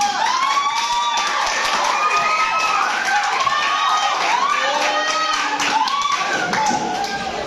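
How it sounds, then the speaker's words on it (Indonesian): Children in a classroom lesson on the human respiratory system clap together in quick, scattered taps and thumps, with excited young voices calling out over the clapping throughout. "Tepuk tangan dulu."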